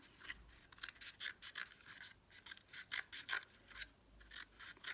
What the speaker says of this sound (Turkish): döndürerek hızlı bir şekilde kesiyorum